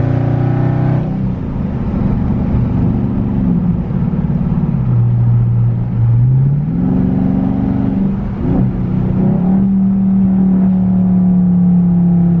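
Steady engine drone from inside a moving 2021 widebody Scat Pack, with the pitch shifting gently as it speeds up and slows, loud and constant throughout.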